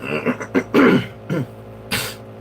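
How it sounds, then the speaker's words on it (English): Several harsh, throaty coughs up close, coming in uneven bursts with short gaps between them. "my throat's kind of messed up. I don't know what's wrong with that, but coughing like crazy."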